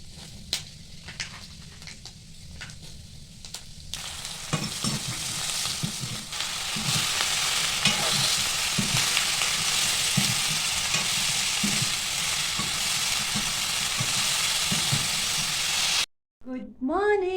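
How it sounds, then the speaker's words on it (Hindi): Bitter gourds, a hill variety, fry in oil in a wok with a steady close sizzle and occasional stirring clatter. Quieter rustling comes first and a brief break follows near the end. "कढ़ाई में तेल डाल दिया है और ये सब्जी बन रही है हमारे पहाड़ी करेलों की"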